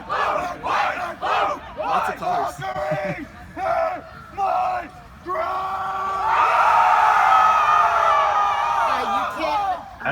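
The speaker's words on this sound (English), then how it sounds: "I'm sorry, we're just captivated by this cheer." A women's quidditch team at a tournament match shouts a rhythmic cheer in chanted bursts, then a sustained group yell and whoop swells loudly, with some commentary talk at the start.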